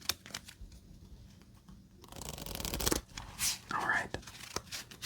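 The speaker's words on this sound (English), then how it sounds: "Let's do one more quick shuffle and we'll start our next game." Playing cards are shuffled up close during a FreeCell solitaire game, giving soft riffling, flicking and brushing sounds in quiet bursts, with a louder riffle midway and light card handling afterward.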